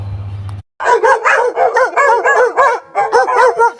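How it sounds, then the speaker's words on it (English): Two dogs bark in rapid, repeated bursts, loud and close, a steady volley of sharp woofs after a short silence. "was glad to hear the dogs, old Tige and Scooter, barking their welcoming hello"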